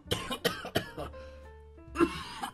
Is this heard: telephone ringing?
no